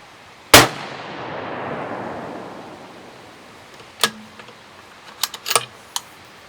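A .223 switch-barrel rifle firing 69-grain bullets: one loud, sharp shot with a long decaying ring, then after a pause a further cluster of quick, fainter cracks and clicks, with no one speaking.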